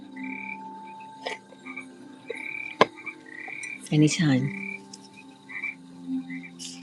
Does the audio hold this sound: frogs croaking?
yes